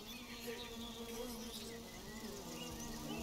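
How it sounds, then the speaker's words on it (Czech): Flies buzz in the survival video game Grounded, a faint, continuous droning hum with wavering pitch over a busy game soundscape. "Hnusný mouchy."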